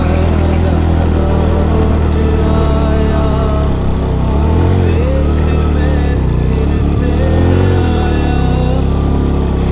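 A motorbike engine strains on a rough mountain road near Skardu, a loud, close, continuous drone that labors and swells slightly as it climbs.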